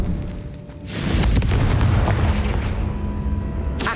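A Confringo spell blast in the Hogwarts Legacy video game, a sudden heavy booming explosion that swells into a sustained roaring rumble, loud and close, followed by a sharp burst at the end.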